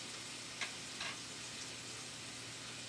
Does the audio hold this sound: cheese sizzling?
yes